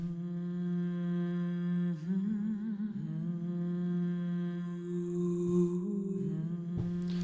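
Dark vocal chord progression for a drill beat, sustained layered voice-like pads holding chords that shift every couple of seconds, smooth and steady, ending in a brief sharp hit.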